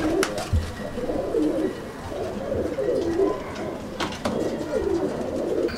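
Soft, low cooing from a female Kasuri pigeon repeats in rolling phrases, close by, over a steady background of rustling and light bird noise.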